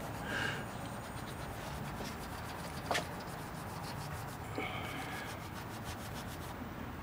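A $20 lottery ticket being scratched off: a continuous dry rubbing and scraping with a couple of brief sharper scratches, close and steady throughout with no speech.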